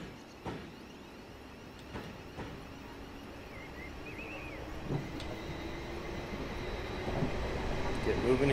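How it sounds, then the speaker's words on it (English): A Class 444 EMU electric train on the Portsmouth Direct Line in Train Simulator 2015 goes by as a low, steady rumble that swells louder toward the end, with a few faint knocks along the way. "Do a quick train by on my own right here."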